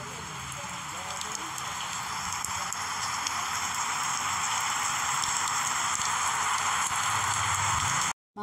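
Steady hiss of rain falling in the wet season, an even, unbroken wash that holds at the same level throughout before cutting off abruptly at the end.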